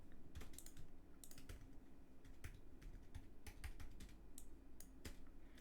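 Computer keyboard keys typed in quick irregular bursts at close range during CAD-style modelling input, followed by an Enter key press. The clicks sound steady and fairly soft, with no speech.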